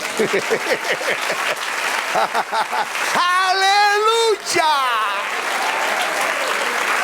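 A church congregation applauds in steady, rhythmic claps, then a loud voice cries out in praise over the noise before the clapping continues as a dense wash of applause.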